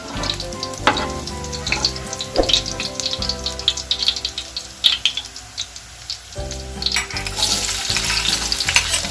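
Pork and onions sizzle loudly in a hot pan, with scraping stirs and occasional clinks of a utensil against the pan, close and steady without talk.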